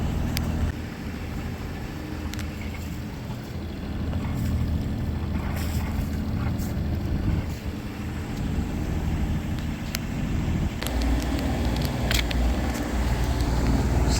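A Catalina 30 sailboat motors out of the harbor in the San Juan Islands, its engine a steady low drone under constant water and wind rush, with occasional faint knocks and clicks on board.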